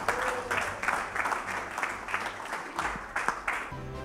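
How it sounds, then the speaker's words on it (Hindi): An audience at a Pakistan cricket gala evening applauds, a moderate wash of steady clapping from a crowd with a few louder bursts, no speech over it. "तो प्लीज़ इनके लिए भी तालियां।"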